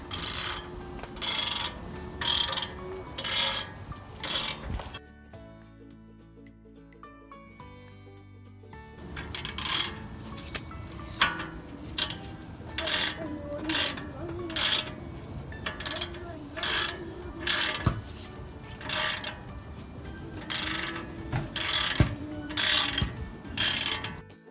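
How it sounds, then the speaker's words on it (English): A ratchet tightens brake caliper bolts during a brake rotor job on a 2015 Nissan NV 3500, giving close, rapid clicking strokes in repeated bursts with a short pause in the middle. "Now it's time to tighten the two bolts."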